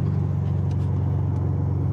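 A Subaru STi on coilovers cruises at night, its engine a steady low droning rumble heard from inside the car, constant and even throughout, with no speech.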